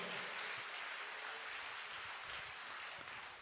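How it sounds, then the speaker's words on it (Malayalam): Steady, dense clapping from a congregation at a religious gathering fills the whole stretch, loud and even, with no voices standing out. "കരം ഉയർത്തി നല്ലൊരു കയ്യടി കൊടുത്ത ദൈവത്തിന് നല്ല കയ്യടി കൊടുക്ക്"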